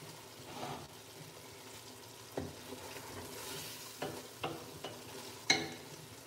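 Chicken wing adobo (adobong pakpak) sizzles softly in a frying pan while a utensil stirs it, giving several distinct scraping strokes spaced a second or so apart over the quiet, steady frying.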